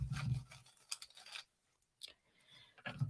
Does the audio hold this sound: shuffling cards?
yes